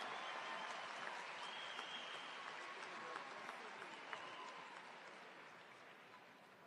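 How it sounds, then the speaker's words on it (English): Graduates of a college of agricultural sciences and natural resources receive applause at a fall commencement ceremony, a large crowd clapping steadily and broadly in a big hall, fading gently toward the end. "Please congratulate them with your applause"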